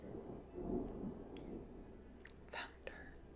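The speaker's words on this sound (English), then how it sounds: "Thunder." Distant thunder rumbles low and faint during a heavy rainstorm, a soft rolling swell under quiet indoor sounds and a whispery voice.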